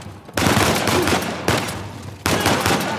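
Gunfire in the video game Uncharted 4, dense bursts of loud, continuous shooting that cut off briefly around the middle and then start again, filling the whole clip with no voices.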